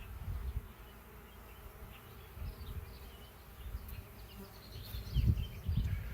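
Honeybees swarm and buzz around an open hive during a honey harvest, a dense droning hum that swells and fades as bees pass close by, with no talking.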